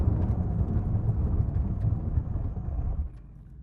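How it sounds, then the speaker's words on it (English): Two sports cars, a Mercedes-AMG GT R and a Nissan GT-R, brake hard from 70 mph in a full emergency stop; a loud, steady low road and engine rumble holds, then drops away sharply near the end as the cars come to rest. "Full emergency stop!"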